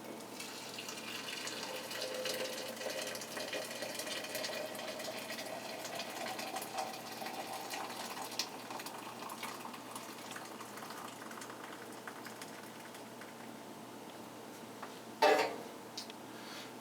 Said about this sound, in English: Pour your boiling water into the can.